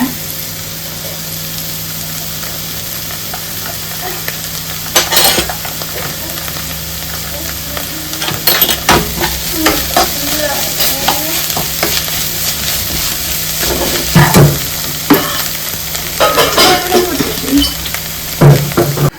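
Samosa filling sizzles steadily in a pan while a spoon scrapes and stirs it in repeated bursts, close and fairly loud.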